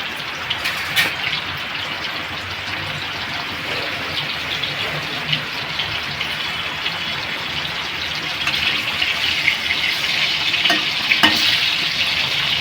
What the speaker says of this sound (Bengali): আমি পটলটা ভাজি অন্যরকম, দেখবেন আমার পটল ভাজা অন্যরকম।